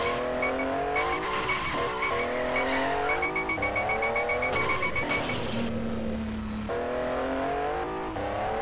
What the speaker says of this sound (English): Some nice meaty kind of engine effects.